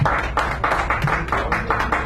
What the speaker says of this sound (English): Give this person a round of applause, please.